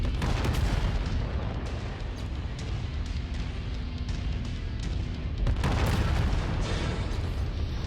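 Artillery fire and explosions rumble through a battle in a MechWarrior-style mech game, a dense, continuous low roar punctuated by sharp blasts, with a heavy burst around the middle.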